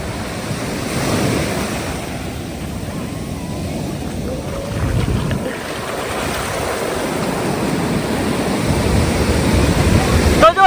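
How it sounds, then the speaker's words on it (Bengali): Ocean waves crash and wash steadily onto the beach at Puri, a continuous surf roar with wind buffeting the microphone throughout. "ঢেউ আসছে।"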